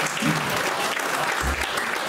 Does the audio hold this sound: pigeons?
no